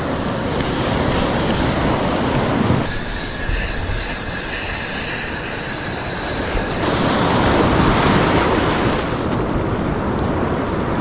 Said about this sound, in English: So swell is come down a bit, but there is the odd big one that comes through right now.